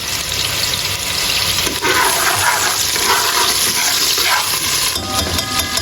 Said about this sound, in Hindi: मैंने पानी डाल दिया थोड़ा सा ताकि जल ना जाए